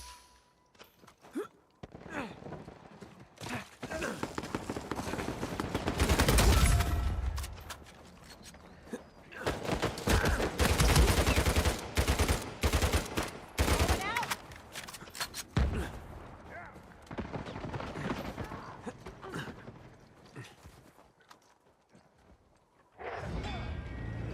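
Gunfire in the video game Uncharted 4 arrives in several loud clustered bursts with quieter gaps between them, with hoof-like clatter and game effects mixed in.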